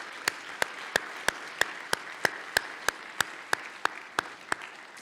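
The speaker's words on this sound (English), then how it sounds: "give him a round of applause, please" Steady, evenly spaced claps, close and fairly loud, ring out about three per second at a debate championship awards ceremony honoring a member, with a faint room hum between them and no talking.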